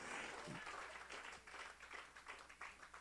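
A church congregation applauding in praise, a dense wash of hand claps that swells near the start and continues steadily with rhythmic bursts throughout.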